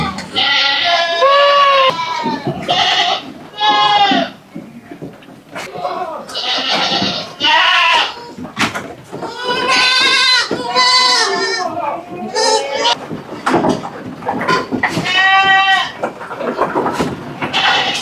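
Goats bleat in a pen on a goat farm, a steady chorus of overlapping wavering calls from many animals, loud and close, with no speech over them.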